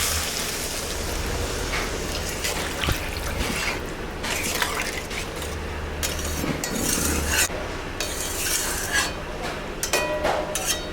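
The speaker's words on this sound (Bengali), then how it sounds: "এখানে আমি অল্প করে জল দিই, হালকা করে একটু জল দিয়ে দিলাম।" Water poured into a pan of simmering magur catfish curry, with splashing, bubbling and clinks of a utensil against the pan amid faint background noise.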